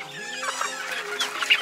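Chicks cluck and peep up close, a short burst of soft, repeated calls on a farm with no voices.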